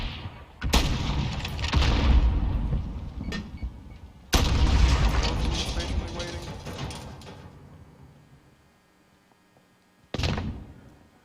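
Gunfire from Call of Duty: Modern Warfare during an intramural esports semi-final, with three sharp, loud booming shots spread out in time, each followed by a rumbling decay, the last one after a near-silent pause.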